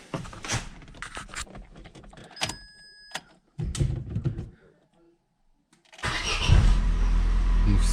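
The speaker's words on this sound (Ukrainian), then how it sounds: "Ну що, пробуємо, як заводиться, да?" An Opel Astra engine cranks and catches, then runs loudly and steadily up close, following a stretch of people talking and some clattering.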